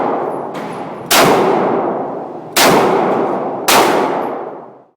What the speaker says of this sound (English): Take aim, then quick follow-up shot.